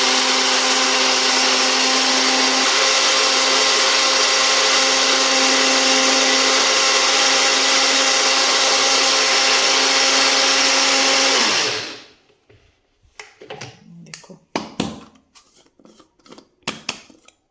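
Electric grinder pulverising mixed ingredients into churan powder, a loud steady high-pitched whir that runs for about twelve seconds, then cuts off and winds down into scattered clinks and handling knocks.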